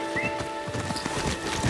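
Steady clip-clop of horse hooves from Ghost of Yotei, a fairly loud, continuous rhythmic trot with no talking over it.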